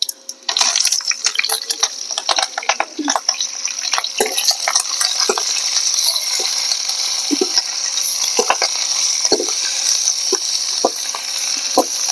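Garlic and chilies fry in a pan for Punjabi dahi mirch, giving a steady close sizzle with scattered stirring clinks and scrapes throughout, no talking.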